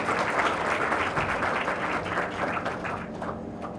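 A big round of applause fills a hall at an HR conclave at a business school, with thick, continuous clapping from the crowd that slowly thins toward the end.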